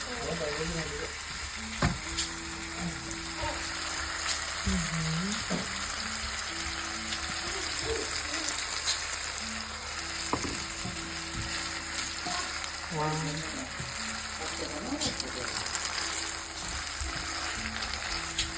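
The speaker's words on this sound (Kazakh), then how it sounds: "Сәл қаттырақ отта пісіреді екен." Pad thai noodles are stir-fried in a hot pan over fairly high heat, with a steady loud sizzle and repeated scraping and clacking of the utensil throughout, and a few brief voices in the background.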